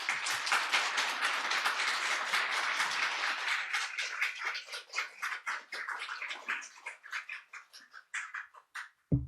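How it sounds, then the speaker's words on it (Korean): A church congregation at a Sunday morning service claps to welcome the pastor. Dense applause gradually thins into scattered individual claps before dying away. "우리 박수로 우리 목사님 모시겠습니다"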